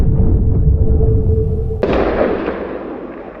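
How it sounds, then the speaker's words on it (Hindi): A big bang explosion sound effect: a deep rumbling build-up gives way to a sudden, loud blast whose bright, crackling roar decays slowly over the following seconds. "बहुत ज़्यादा डेंसिटी की वजह से इसमें बहुत बड़ा विस्फोट हुआ।"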